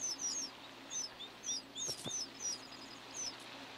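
Small birds chirp in the Texas cross timbers woodland, repeated high thin tweets and short rising calls in quick bursts, faint and distant over a quiet background, with no talk.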